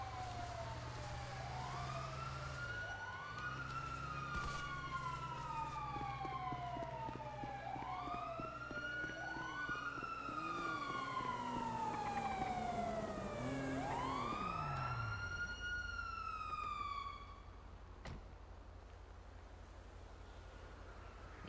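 Police car sirens wailing loudly, several overlapping rising-and-falling sweeps over a low rumbling engine, continuous until the wail cuts off near the end, leaving the engine drone alone.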